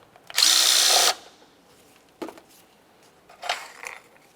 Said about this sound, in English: we'll be using an 8mm to remove the bolt aspect of this